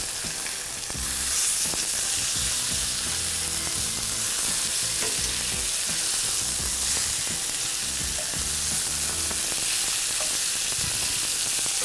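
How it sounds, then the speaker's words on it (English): Steady, continuous sizzling and crackling of chicken frying in a hot pan, close and fairly loud, with no voices. "let it rest for a minute, let it stop sizzling and sparkling"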